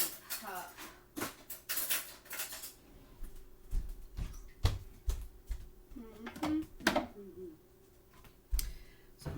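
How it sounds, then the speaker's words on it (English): Fresh juice stirred in a cup, with a spoon clinking and scraping against it in quick, irregular taps that sound fairly close but soft, while a person talks between the clinks. "So I'm going to stir it up because you want to mix up all that yummy stuff"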